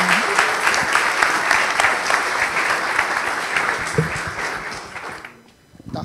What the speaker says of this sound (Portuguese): Uma salva de palmas sobre isso.